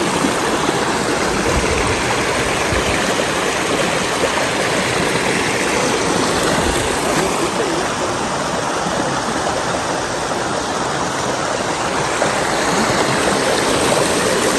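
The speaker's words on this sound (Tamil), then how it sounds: "அடியில் வாட்டர் ஃபால்ஸ் ஓடுது," A waterfall pours beneath a small bridge in the Lake District, a steady, dense rush of flowing water that holds constant and close throughout, with no voices over it.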